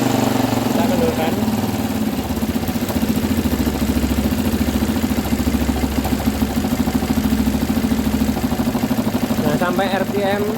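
An engine idles steadily at about 1200 RPM, a loud, close, even mechanical drone with a fast regular pulse throughout and a few faint higher sounds near the end.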